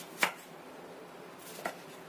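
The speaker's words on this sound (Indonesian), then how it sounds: "setengah butir tomat yang separuhnya kita blender tadi, kita iris tipis-tipis aja" A knife slices half a tomato thinly, making two brief, crisp cuts against a board with a quiet pause between them. No one speaks.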